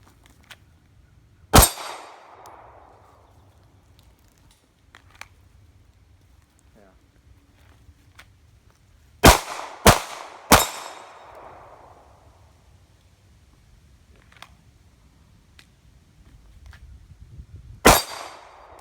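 Glock 42 pistol shots fired at an outdoor target: a single sharp crack, then a quick group of three, then one more, each loud and echoing, with quiet gaps between the shots.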